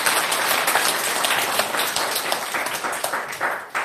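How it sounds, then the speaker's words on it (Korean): Audience at a formal signing ceremony for a taekwondo cooperation agreement gives a big round of applause, dense clapping with individual claps poking through, tapering slightly toward the end. "큰 박수로 한번 보내주십시오"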